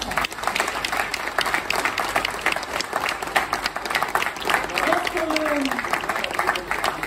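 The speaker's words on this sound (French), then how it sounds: "je pense que c'est important aussi qu'on applaudisse chaleureusement nos pêcheurs" An audience at the Printemps de la Sardine festival in St-Gilles-Croix-de-Vie applauds the fishermen, sustained dense clapping throughout with voices mixed in.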